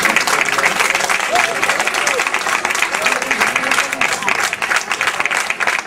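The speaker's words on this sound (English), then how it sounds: "I want to sort of give a big round of applause to our main participants" Loud, dense applause from a school annual day audience fills the hall for several seconds without a break, with crowd murmur mixed into the clapping.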